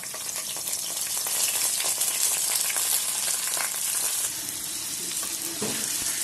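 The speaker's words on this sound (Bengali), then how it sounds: "এখন চাল আমি ঢেলে দেবো।" Biryani rice goes into a pan of browned onions frying in oil, giving a loud, continuous hiss and sizzle close by with faint scraping.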